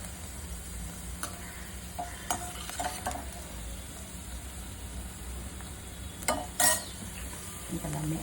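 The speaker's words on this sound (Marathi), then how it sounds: "हे काजू बदाम वगैरे आपण परततो" Cashews and almonds sizzle softly as they fry in ghee in a kadhai. A utensil stirs and scrapes the pan now and then, with brief clinks over a steady low frying hiss.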